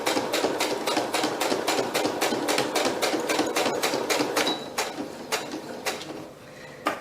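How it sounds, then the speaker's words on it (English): A domestic sewing machine runs stitches back over fabric in a rapid, even mechanical patter, close and loud, then slows and fades to a few last isolated clicks near the end. "all I need to do is kind of run the sewing machine back over that little bit"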